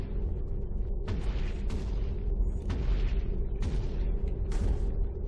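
A series of muffled booming blasts in modded Minecraft, about five of them, spaced roughly a second apart over a constant low rumble.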